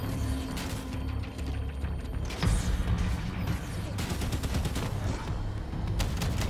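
Dense gunfire in the video game Halo 5: rapid overlapping shots and bursts crack loudly and continuously, with a heavier blast midway, all up close.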